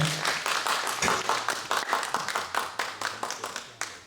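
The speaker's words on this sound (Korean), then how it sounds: "격려의 박수 부탁드리겠습니다" A small group at a fathers' school group-sharing session claps together: a brisk, steady patter of hand claps that runs for about four seconds, with a faint low voice murmuring underneath.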